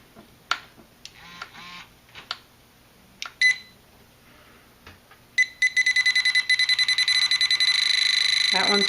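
A Deteknix pinpointer metal detector sounds loudly, a rapid train of evenly spaced electronic beeps that merges into a continuous shrill tone, preceded by scattered clicks and handling noises.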